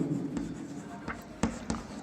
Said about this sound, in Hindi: अब यहाँ लिखेंगे समकोण